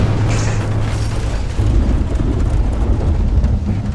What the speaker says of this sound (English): That was a very loud thud for a falling door